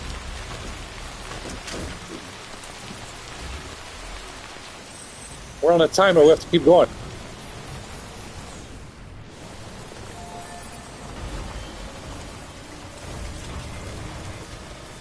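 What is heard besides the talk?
timefall rain in the video game Death Stranding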